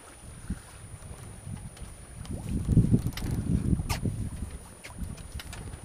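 A light breeze rushes over an open microphone aboard a sailboat, with water lapping softly against the hull and gusts swelling and fading.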